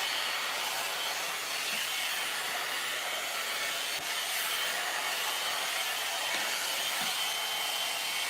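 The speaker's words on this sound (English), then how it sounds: "Why does it sound like a hair dryer but look like a curler?" A curling blow dryer runs without a break, a steady airy whir that sounds like a hair dryer, close and even throughout with no talking.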